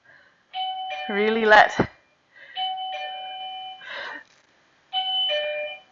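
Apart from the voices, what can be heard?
doorbell ringing at home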